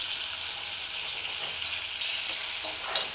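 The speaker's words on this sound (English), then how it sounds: "get a big cooking spoon like this and kind of rotate the curry" Chicken coconut curry stew sizzles in a pot on the stove as a big cooking spoon turns it, a steady close hiss with soft scraping surges and no talking.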